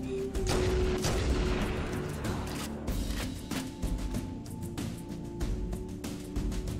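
Rapid gunfire in the shooter Halo CE Anniversary, a steady stream of loud shots and bursts with a brief tonal whine early on, continuing without a break under the game's background.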